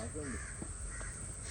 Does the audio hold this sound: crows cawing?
yes